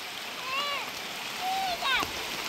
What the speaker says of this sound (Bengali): অনেক বৃষ্টি হচ্ছে এখানে